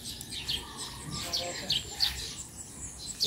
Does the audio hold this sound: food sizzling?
no